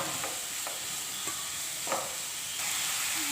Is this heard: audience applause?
no